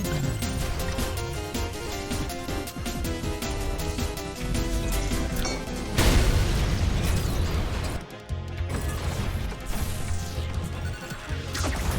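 A rail cannon shot detonates a launched core in the video game Ultrakill, giving a loud sudden blast and crash over dense game music, followed by a noisy burst with scattered impacts.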